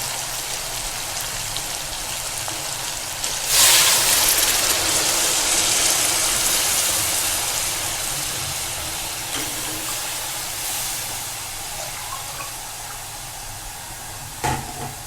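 Water is poured into a pot of mutton and potato curry, a steady hissing splash that swells suddenly, then settles into a continuous rushing pour with a few small clinks, with no talking.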